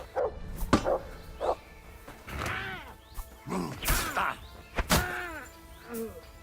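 A dog in the video game Kingdom Come: Deliverance 2 barks in several sharp, separate bursts spread irregularly through the clip, mixed with thuds, creaks and other game noise.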